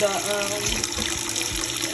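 Tap water running into a cooking pan in a home kitchen, filled to boil sweet potatoes; a steady splashing gush that holds for the whole stretch and sits fairly near, with low kitchen noise underneath.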